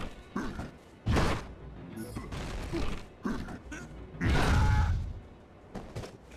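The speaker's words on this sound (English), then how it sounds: "Just got one more wall to knock down." Crumbling crashes of a wall being knocked down in the video game Majin and the Forsaken Kingdom, with two heavy bursts of rubble and thuds among smaller knocks and mechanical clatter, fairly loud.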